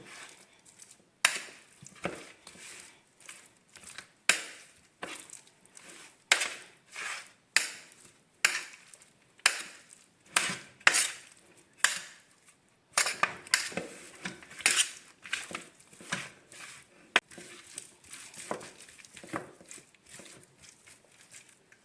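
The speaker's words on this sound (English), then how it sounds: "I'm going to mix it all within the tray." Curry chicken is mixed by hand with utensils inside a metal tray, giving irregular sharp scraping clicks and clatters that repeat unevenly over about twenty seconds, close up with no talking.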